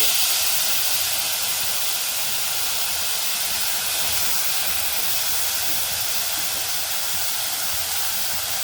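Grated ginger and chopped tomato fry in a pan for rasam, a steady loud hiss of sizzling that fills the whole stretch without pause or voices.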